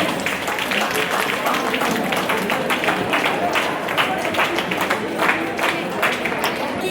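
An audience at a seventh anniversary function claps, a dense patter of applause rising and falling across the hall while someone speaks over it.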